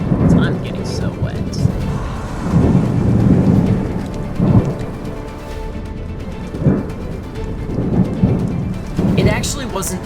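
A thunderstorm over a lake brings steady heavy rain with several deep rolling rumbles of thunder, loud and close, and a person speaking briefly near the end.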